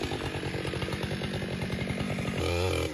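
A chainsaw scoring the face cut on a poplar tree runs loud and steady with a fast, rhythmic chatter, and its pitch shifts near the end as the saw revs.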